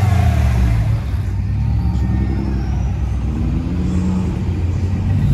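A GT500 car engine revving at the Woodward Dream Cruise car event, a loud, close, continuous deep rumble that holds steady for several seconds, with no talk over it.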